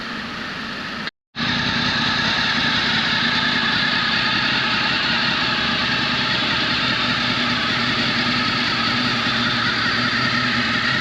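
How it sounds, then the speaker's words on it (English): A Honda VFR800 V4 motorcycle engine idles as it warms up, a loud, close, steady rumble that runs almost continuously except for one brief gap near the start. "That V4 sound is one of the best out there. I'm just gonna check for oil leaks while it's warming up."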